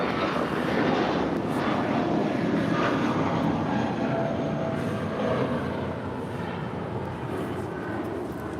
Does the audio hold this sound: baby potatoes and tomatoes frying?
no